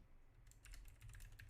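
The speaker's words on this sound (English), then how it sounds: "typing out some questions here" Typing on a computer keyboard, with quick irregular key clicks that start after a brief quiet pause and continue close and faint over a low background hum.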